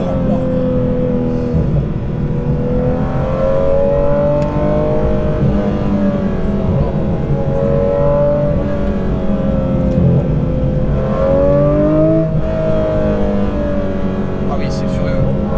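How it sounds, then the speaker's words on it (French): A Porsche GT3 RS fitted with a new exhaust accelerates, its flat engine note climbing and falling in rising sweeps through the gears, loud and close, with someone speaking over it. "Là, juste sur une accélération, le moteur est très très différent de la 91 phase 1."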